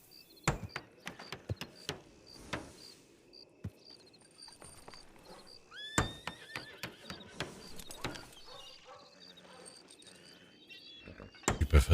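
A horse in a video game neighs with high, shrill whinnies among scattered clicks and hoof taps, with a louder burst near the end and no speech over it.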